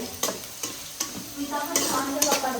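Curry leaves and chili powder with salt frying in a pan of oil, a steady crackling sizzle broken by regular scrapes and knocks of a stirring spoon, close and with no talk.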